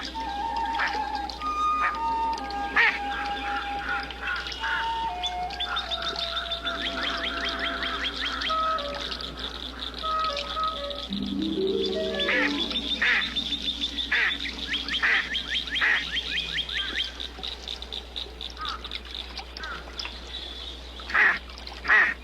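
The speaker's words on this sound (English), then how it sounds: "This big mallard duck looks to be in perfect health, but it's not." Big mallard duck with an injured wing, its quacks and calls repeating at moderate distance over a steady low background, with other bird chirps mixed in.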